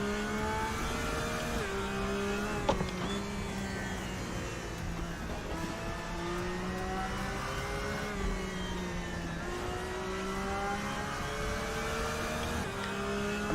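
A Porsche GT3 race car in RaceRoom roars continuously at high revs, its engine note climbing and dropping through gear changes, heard clearly and alone.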